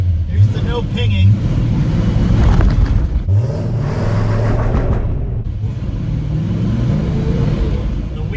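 Rebuilt 1961 Studebaker Hawk driving under throttle, its engine a loud, steady low rumble that swells and eases slightly, with people talking over it.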